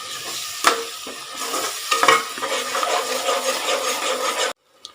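Tomato and cashew paste being stirred into frying onions for a restaurant-style chicken curry gravy: steady, loud sizzle with scraping spoon strokes throughout, which cut off abruptly near the end.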